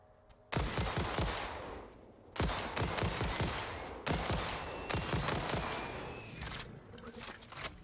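Gunfire from a weapon in the video game Satisfactory, fired in four loud rapid bursts separated by short pauses, each burst ringing out and fading.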